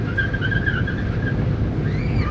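A VW Beetle converted to electric drive with a Hyster E50 forklift motor whines steadily as it runs, a continuous high-pitched electric tone over a low road rumble with slight wavering in pitch.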